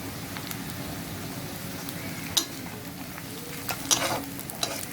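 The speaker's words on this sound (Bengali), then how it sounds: "এগুলো আমি একটু হালকা বাদামি করে ভেজে নেব" Onions and green chilies fry in a pan with cardamom, cinnamon and cloves for a Bangla egg curry, a soft steady sizzle with occasional sharp stirring clicks, no voices.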